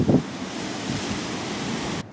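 Strong wind gusting outdoors beside a broken-down car, a continuous loud roar of wind buffeting the microphone, broken by a brief thump at the start and cutting off abruptly near the end.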